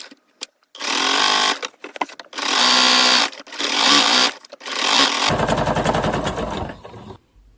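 Sewing machine running long decorative stitches along the hem of kids' shorts, loud whirring in four or five separate bursts with short pauses between them, ending in a rapid rattling run.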